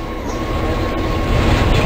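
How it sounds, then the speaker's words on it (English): A passenger train in the Roblox game Train Wrecker approaches with a loud, steady rumble of wheels on track that swells as it draws nearer. "We got a passenger train coming."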